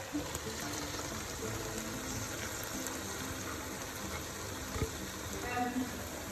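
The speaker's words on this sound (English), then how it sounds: "Tomato, pepper mix has been frying for a bit, and at this point I'm just gonna add my sweet red peppers." Sweet red peppers frying in a pan with a tomato and pepper mix give off a steady, soft sizzle and bubble, quiet and continuous with faint stirring clinks.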